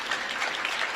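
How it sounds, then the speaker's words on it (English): A crowd at a men's basketball game applauds, a brief burst of steady clapping filling the gym, moderately loud and fairly distant. "round of applause from the crowd here."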